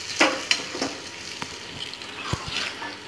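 Roasted cashews are tipped into a pot of barnyard millet pongal and stirred through it, giving soft scraping strokes and a few light sizzles and clinks from the pan with no voices.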